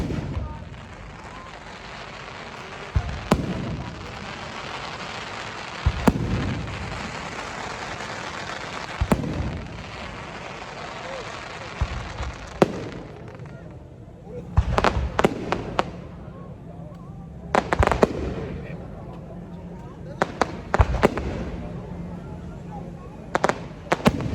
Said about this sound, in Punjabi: ਬਹੁਤ ਘੈਂਟ ਚੱਲ ਰਹੇ ਪਟਾਕੇ